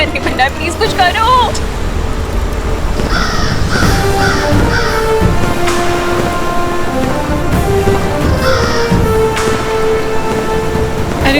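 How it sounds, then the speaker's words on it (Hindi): A crow caws in a series of short harsh calls over a busy backdrop of rain-like noise and rumble, with people talking throughout. "तुम उस त्रिनेत्री काक को सचमुच ढूंढ लाए।"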